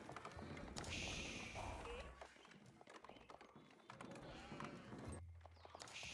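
Sheep bleating in a video game, several short nasal calls at different moments over a busy bed of game sounds and clopping footsteps, fairly quiet and close.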